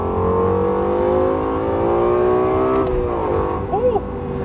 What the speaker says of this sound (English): when you are full throttle, it gives you that kick, so it gives that intensity